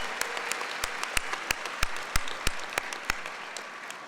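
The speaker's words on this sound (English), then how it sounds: "Let's give them a special round of applause," A crowd applauds at a spring college convocation ceremony for graduates, a dense, steady wash of many hands clapping with a few louder claps standing out nearby, continuing throughout without talk.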